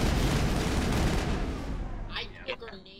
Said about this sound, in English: I threw a grenade through this and hit an enemy.